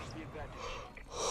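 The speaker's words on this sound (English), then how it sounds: "let me yawn" A person gives a breathy, drawn-out yawn with an open-mouthed gasp and soft exhale. It is quiet and close, and the voice rises near the end.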